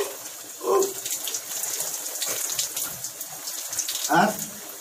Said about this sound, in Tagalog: Sarap maligo ang lamig ng tubig.